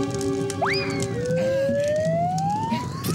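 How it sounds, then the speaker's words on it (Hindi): A fire brigade siren wails in a Hindi cartoon, a loud rising tone that sweeps upward and then holds as a long, steadily climbing whine. "चिंगम सर फायर ब्रिगेड बुलाओ जल्दी"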